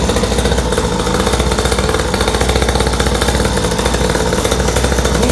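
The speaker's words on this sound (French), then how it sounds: "Mon quad a démarré." A small pocket quad's engine running right after a pull start, a loud, close, buzzing two-stroke drone with a rapid steady pulse and no pauses.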